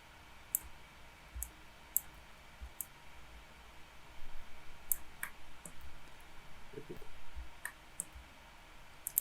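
Sharp computer mouse clicks, single and spaced out, tick through a quiet room during Maya 3D modeling work, with faint background hiss and light desk handling.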